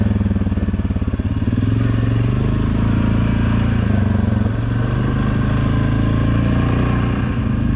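An ATV engine runs steadily and loud on an off-road trail ride through fall woods in Leota, Michigan, a continuous close rumble with slight throttle changes throughout.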